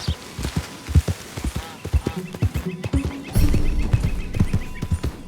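Rhythmic hoof clip-clop of a horse in Red Dead Redemption 2 moving at a steady pace, fairly close, with a brief snort or whinny-like sound partway through.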